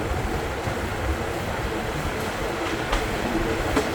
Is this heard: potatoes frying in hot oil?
no